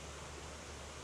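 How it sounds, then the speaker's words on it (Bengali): Distant waterfall at Aduri Jhorna near Jaflong in Sylhet, a steady, even wash of falling water roaring softly and continuously at a distance with no voices. "এই ঝর্ণার পানির শব্দ"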